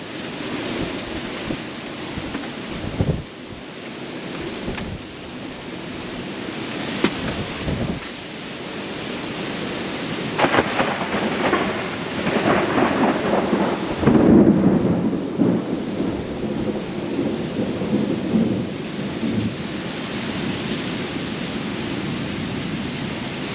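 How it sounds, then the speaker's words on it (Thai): Heavy rain pours down with gusting wind and deep rumbles of thunder during outdoor cooking, a dense roaring wash that swells louder midway. "ทั้งฝนทั้งลมเลยพี่น้อง"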